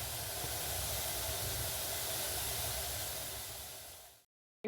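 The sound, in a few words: potato stir-fry cooking on medium flame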